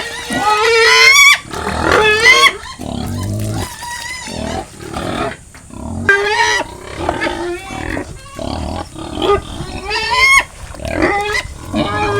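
Farm pigs at feeding time eating breeder feed mixed with rice bran and bananas, giving loud close squeals, grunts and oinks in repeated bursts, with some background voices.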